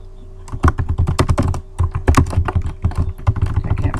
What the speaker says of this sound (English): I'm going to type my title.